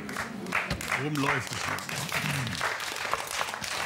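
Studio audience applauding on a German TV cooking show, a broad wash of clapping lasting the whole moment, mixed with people talking over it.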